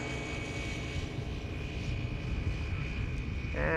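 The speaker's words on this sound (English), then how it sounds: "This is the Finnair A350, all right." Finnair Airbus A350 airliner at Amsterdam Schiphol, a steady broad roar of engine noise holding evenly throughout, with a rising whine near the end as it approaches.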